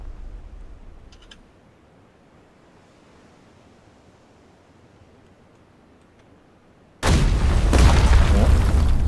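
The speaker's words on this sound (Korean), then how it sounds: "수류탄 누가 던졌네" Grenades in PUBG explode with a sudden, massive boom that erupts after several seconds of quiet, low ambient rumble, then roars on loud and broadband with a sustained rushing blast.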